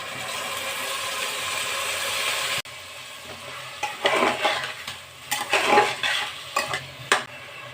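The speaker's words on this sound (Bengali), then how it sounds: "এখন এর মধ্যে দিয়ে দিব সেই ধুয়ে রাখা চাল ডালগুলো, সবগুলো একসাথে দিয়ে দিব। দিয়ে এটি কিছুক্ষণ একটু ভেজে নিব।" Rice and lentils fry in a pressure cooker with steady sizzling, then a spoon scrapes and stirs through the grains in irregular bursts, clattering against the metal pot at close range.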